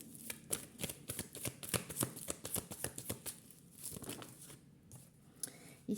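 Tarot cards are shuffled close up in a quick run of crisp riffles and slaps, followed by quieter handling and a final snap, with no talking.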